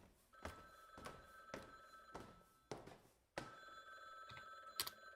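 An old-style telephone bell rings repeatedly from somewhere below on a lower floor in the horror game Downfall, sharp metallic bursts about once a second, quiet and slightly distant with soft thuds between rings.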